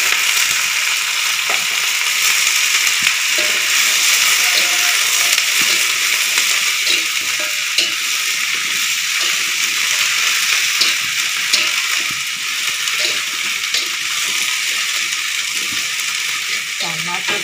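Long beans sizzle steadily while they stir-fry in a pan, a loud, close, continuous hiss with faint scraping taps scattered throughout.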